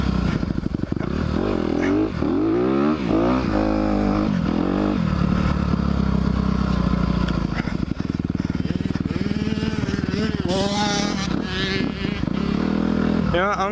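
A 2021 Honda CRF250R dirt bike engine revs loud and close throughout, rising and falling in pitch as the rear tire spins during a wheelie attempt, with people talking over the engine noise.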